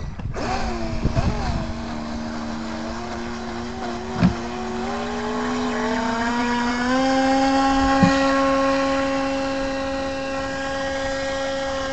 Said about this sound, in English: you can see the torque of the motor when you hit the throttle